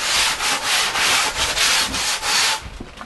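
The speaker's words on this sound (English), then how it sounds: "I'm just going to use my sanding block because I have a little more control over it" Hand sanding wood with a sanding block, steady rhythmic back-and-forth strokes of loud, close abrasive rasping that trail off into lighter scrapes at the end.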